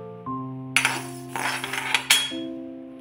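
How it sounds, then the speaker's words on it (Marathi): Coriander seeds rattle and clink against a metal kadhai while being roasted for sambar masala, a busy scraping burst of about a second and a half over a steady background tune. "आता आपण कढईमध्ये टाकूया धने आणि धने सुद्धा मस्त भाजून घेऊया।"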